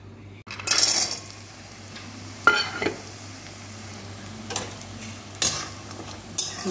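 Bori, small sun-dried lentil dumplings, fry in a pan to turn deep red, giving a steady low sizzle broken by a few sharp clinks and scrapes of a spatula against the pan.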